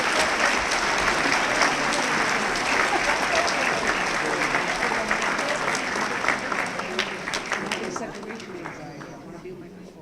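A large crowd applauds at a 50th anniversary alumni celebration, dense continuous clapping that holds strong and then gradually thins and fades toward the end.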